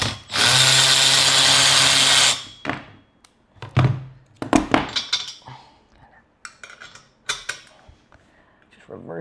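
A power drill whirs loudly and steadily for about two seconds while reversing bolts on a 45 mph go kart being built, then stops, followed by scattered metallic clanks, taps and tool handling.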